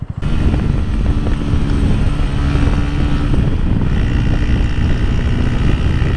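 A motorcycle engine held at high revs on a road trip toward Istanbul drones loudly and continuously, close up with heavy wind rush and no pauses.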